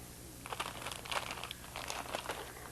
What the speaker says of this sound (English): A plastic bag,